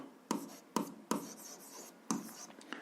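Pen strokes on paper while working an algebra problem by hand, a few quick scratchy bursts of writing separated by short pauses, close and fairly quiet.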